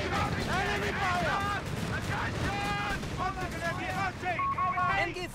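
Gunfire crackles through a Company of Heroes 3 battle for Tobruk, continuous and dense under constant shouted voice commands from soldiers.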